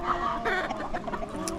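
Farm chickens cluck and murmur softly close by while feeding on a corn mix in the morning, a busy cluster of short clucks with one higher squawk near the end.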